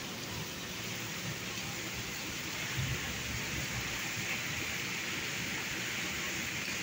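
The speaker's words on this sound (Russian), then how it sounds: "Дождик. Гром гремит, земля трясется." Steady rain falls in Crimea, a continuous even hiss of drops, with a faint, brief low rumble of thunder partway through.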